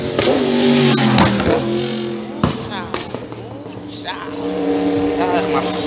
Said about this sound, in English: a motorbike coming up the road at whatever miles an hour.